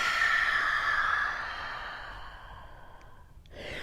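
A long, breathy exhale during a yoga session, close and fairly loud, fades gradually, followed by the start of a quieter breath with no talking.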